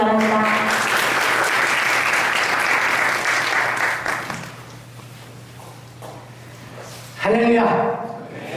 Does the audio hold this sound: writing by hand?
no